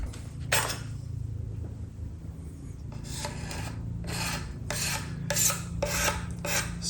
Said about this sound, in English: I am just using a scraper to clean up that edge from the little bit of fibers that naturally tear off